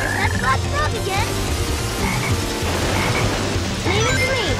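Black Frog croaking in the video game Sonic Heroes, a string of repeated croaks over busy game music and effects, with a brief voice heard near the start.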